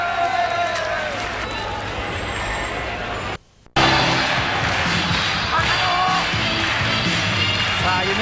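Massive applause and cheering fill the Nippon Budokan arena at a 1989 All Japan pro wrestling event: a dense, continuous roar of the crowd, loud and sustained, broken by a brief cut about midway.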